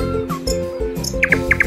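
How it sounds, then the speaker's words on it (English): Bright chirping birdsong of a nightingale, quick repeated tweets and short whistled notes over a steady tonal background, fairly loud with no speech. "Nightingale"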